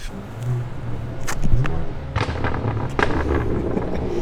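Sharp pops and crackles burst irregularly from a BMW 335i's straight-piped race exhaust with resonator over a low engine rumble, loud and close.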